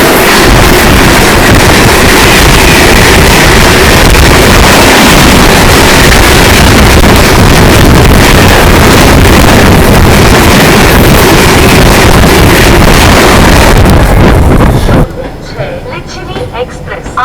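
The 12381 New Delhi–Howrah Purva Express roars past from the opposite direction, heard from an onboard train as a loud, continuous rushing blast with heavy wind buffeting that cuts off abruptly near the end.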